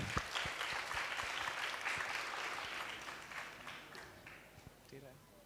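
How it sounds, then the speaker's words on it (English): A school audience gives a round of applause for the chief guest, many hands clapping densely and steadily for about five seconds before thinning out near the end, with some voices mixed in underneath. "Can we all celebrate her presence by putting her hands together for a majestic round of applause?"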